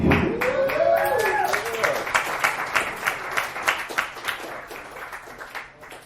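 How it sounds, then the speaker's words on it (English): A comedy club audience applauds after a stand-up set, with dense clapping at first that thins into scattered, rhythmic claps and fades gradually, with some crowd voices mixed in. "Round of applause."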